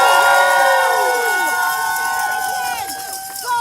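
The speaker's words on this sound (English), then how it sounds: "Give yourselves a round of applause, please." A crowd at a union rally for its bargaining team roars with sustained, loud applause and cheering, with shrill shouts and whistle-like cries rising over steady clapping throughout.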